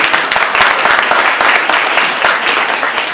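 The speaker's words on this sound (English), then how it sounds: "You could, I don't know, clap." Audience at a lecture claps steadily, a dense burst of many hands from a crowd in a hall, continuing throughout.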